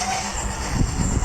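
A train crossing the Jamuna Bridge in Trainz Simulator Bangladesh, a steady, loud rumbling roll of wheels on track with faint rhythmic clacks, continuous and without voices.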